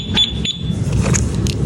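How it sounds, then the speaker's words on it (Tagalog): Two-way alarm on a Yamaha Raider Fi motorcycle going off after the bike is moved: a loud electronic alarm with short high beeps and a wailing tone over a steady background rumble, close by, with no speech. "Tapos meron tong alarm, isang pindot lang dito."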